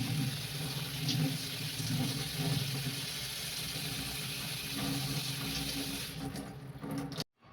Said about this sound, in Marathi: थंड पाण्याने धुणार आहोत. त्याच्यामुळे पास्ता कसा मोकळा आणि सुटसुटीत बनतो थंड पाण्याने धुतल्यामुळं.